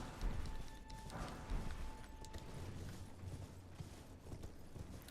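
Hooves of Torrent, a small pony-like steed in the video game Elden Ring, clop in a steady trotting rhythm, faint and muffled beneath a quiet ambient background.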